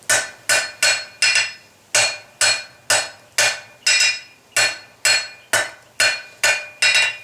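Hammer blows forging hot metal for a blacksmith's brush handle ring out in a steady, evenly spaced series of about thirteen loud, close strikes, each with a bright metallic ring that decays quickly.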